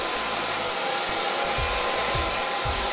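Hair dryer blowing steadily and close while hair is blow-dried with a round brush, a constant broadband whoosh with faint low rustles of the brush moving through hair.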